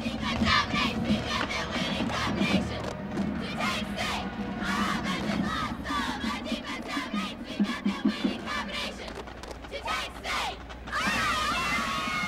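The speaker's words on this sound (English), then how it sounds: "let's hear a really nice Mount Carmel cheer from Mother McCauley, Marion, and Queen of Peace" Cheerleaders and a crowd at a 2005 high school football championship game shout a rhythmic Mount Carmel cheer together, loud and chanted in bursts, ending in a rising roar of voices.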